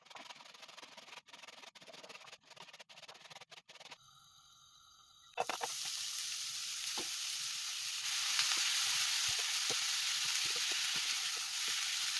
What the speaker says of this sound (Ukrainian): Трошки обсмажимо, щоб вони зменшились трошки в об'ємі і об'єдналися, як би сказати, смаками.